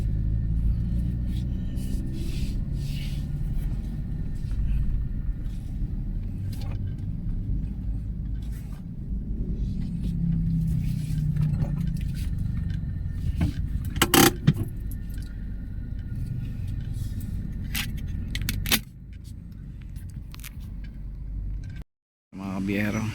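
A car being parked along a street in Maginhawa, Quezon City, with a continuous low engine rumble, a brief jangle of keys and a clunk near the end.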